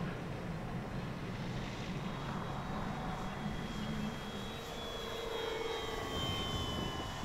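An EC-1500 radio control airplane drones steadily through a shallow turn with flaps down, its engine a constant, moderately distant hum with no talking.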